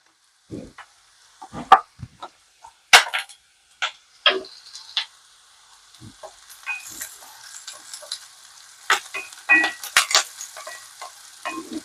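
Oil sizzles and crackles in a hot pan as onions and turmeric are tempered for a coconut curry, with irregular bursts of spattering and popping, close by, with no voices.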